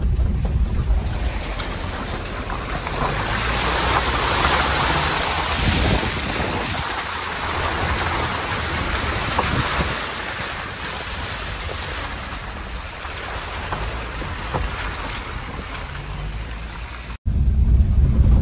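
A loud, continuous rush of water in the Panod stream roars steadily close by, with some wind buffeting the microphone.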